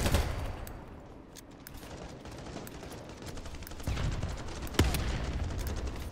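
Distant, faint Call of Duty gunfire crackles almost continuously through a busy multiplayer match, with scattered sharper shots and one louder crack near the end.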